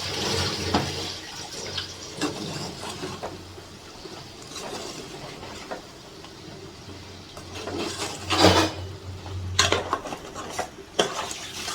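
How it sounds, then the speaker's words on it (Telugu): Mutton curry seasoned with salt and chili is stirred in a pot, giving steady scraping and clinking of a spoon against metal, with louder bursts of stirring near the end and no talk. "ఇప్పుడు చాలా మిక్స్ చేయాలన్నమాట వాటన్నిటికి పెట్టేటట్టు."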